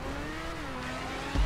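Formula 1 race car engine in a video game, a steady mid-pitched droning whine that holds almost level, then a short louder thump at the end, no talking.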